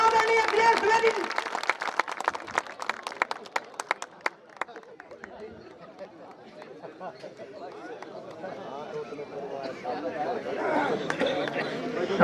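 An audience at a Hindi comic poetry gathering claps loudly to welcome a poet to the stage, a burst of applause lasting a few seconds that gives way to murmuring chatter and a voice speaking.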